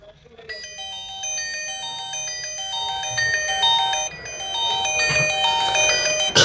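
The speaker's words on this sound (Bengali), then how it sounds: "ফোনটির রিংটোনের সাউন্ড আমরা একটু বরাবরের মতোই শুনবো" A Winstar W57 button mobile phone plays its ringtone loud and close. It is a bright electronic melody of stepping beeps that grows fuller and louder toward the end.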